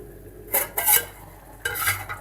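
A utensil stirs tomatoes in a pan for tomato curry, making a few scraping, clinking strokes in two bursts over a low background hiss.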